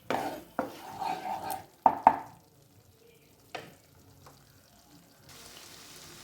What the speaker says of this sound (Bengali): দেখুন 2-3 মিনিট ধরে আমি মশলাটাকে কষাচ্ছি।